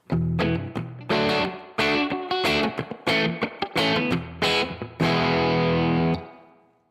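Guitar played through a Headrush Core multi-effects unit on its spring drive setting produces choppy, distorted chords and short strums, loud and close, ending on a held chord that rings out and fades.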